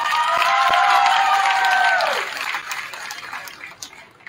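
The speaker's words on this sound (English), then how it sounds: "let's have one more round of applause for your MHS seniors, class of 2024" Audience applause and cheering for senior players at a high school boys varsity basketball game in a gym, a loud sustained crowd roar that fades after about two seconds into scattered claps and murmur.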